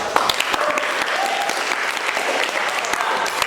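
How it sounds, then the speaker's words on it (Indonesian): Audience applause from a classroom or presentation crowd, steady dense clapping held throughout at close, moderately loud level, with no talk over it. "Berikan aplaus."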